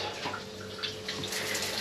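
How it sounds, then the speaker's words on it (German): A sensor-activated shower runs steadily in a marina washroom, a continuous hiss of falling water that stays at an even, moderate level with no voices. "wenn man an den Sensor kommt, dann fängt es auch an zu duschen"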